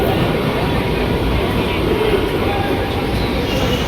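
A Mumbai suburban train arriving at Churchgate rumbles steadily close by, a dense continuous roar with faint rail rattle and no distinct pauses.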